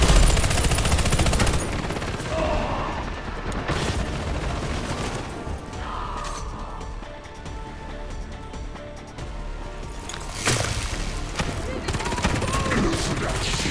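Sustained machine gun fire in the shooter game Warface, loud continuous bursts with booming impacts throughout, layered over game effects and background voices.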